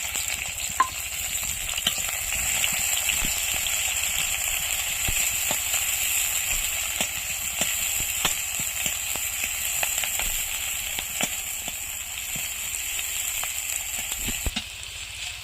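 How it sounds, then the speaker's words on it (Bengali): Chopped onion and green chili dropped into hot oil for a Bengali silver carp curry, sizzling and frying steadily for the whole stretch with scattered sharp crackles and pops, close by and with no talk. "তেল আমার গরম হয়ে গেছে। এবার এর মধ্যে পেঁয়াজ আর লঙ্কা কুচিটা দিয়ে দিচ্ছি।"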